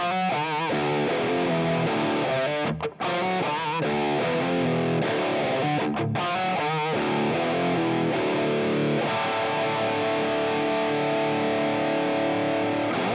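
Distorted electric guitar run through a Helix JCM800 amp model boosted by a Tube Screamer with reverb, playing sustained chords and riffs with two brief stops, loud and continuous throughout.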